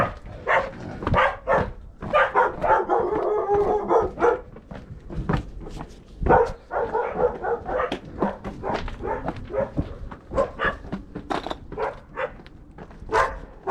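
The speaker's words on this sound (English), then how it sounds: "That dog wanted to murder." An angry dog barks repeatedly near an abandoned Soviet-era park in Georgia, sharp loud bursts in irregular volleys with short pauses between them.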